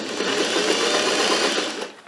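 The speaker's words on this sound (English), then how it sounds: "Now, I'm going to sew along the top first." Sewing machine running a steady continuous stitch along the top edge of a fabric tote bag, loud and close, a fast even mechanical whir that winds down at the end.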